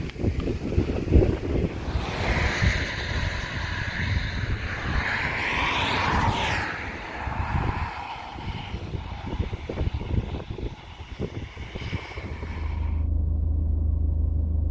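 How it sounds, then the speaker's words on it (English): Strong wind buffeting the microphone beside a busy road near a former RAF airfield in Northamptonshire, with a loud continuous roar and rumble of passing traffic before it cuts to a low steady hum near the end. "the wind's blowing, so hopefully you can hear me over the wind as well"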